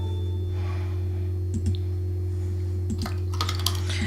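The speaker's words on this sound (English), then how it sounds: "You sat in here and you're typing away." A Sim typing at a computer keyboard in The Sims 4 makes scattered soft clicks in short bursts over a constant low electronic hum.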